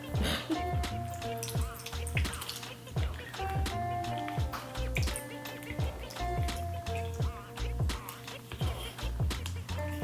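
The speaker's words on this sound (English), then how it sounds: "Ooh, that's a juicy lemon." A lemon being squeezed in a hand citrus press, giving soft wet squishes and drips close by that repeat steadily throughout, with no one talking.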